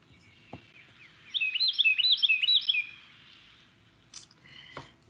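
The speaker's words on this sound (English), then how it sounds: "I'm going to start with the Carolina wren. So this is a bird that we all know, very familiar to all of us here in Georgia." A Carolina wren sings a single quick, rolling phrase of repeated whistled notes lasting about a second and a half, followed by a couple of short chip calls, clear against a quiet outdoor background in Georgia.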